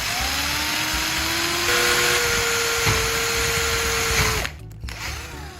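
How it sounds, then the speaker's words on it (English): A small power drill boring holes into plastic battery end caps, a steady high whine that holds for several seconds and then cuts off abruptly, close and loud, with no talking. "use a small drill to carefully make holes at the marked points on both end caps."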